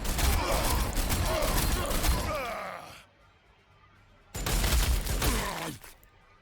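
Units open fire in the Warhammer 40,000: Sanctus Reach strategy game, loud rattling bursts of shooting for about three seconds, then a pause and a second loud burst, with a voice briefly underneath.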